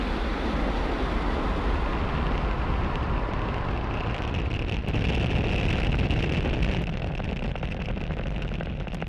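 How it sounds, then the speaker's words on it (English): A SpaceX Falcon 9 rocket lifts off from pad 40 on the PSN SATRIA mission, a loud, continuous broadband roar with crackling texture that holds steady throughout. "Ignition. And liftoff. Go Falcon, go Psn."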